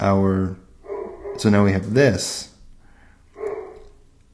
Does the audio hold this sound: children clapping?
no